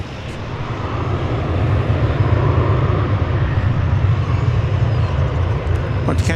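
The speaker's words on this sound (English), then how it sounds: "Want to catch that arriving flight from Indianapolis, Indiana. Flight 1506, the Medal of Honor" An airliner in Medal of Honor livery arrives at DFW Airport from Indianapolis, its engines a loud, steady low roar filling the whole stretch with a faint hiss above.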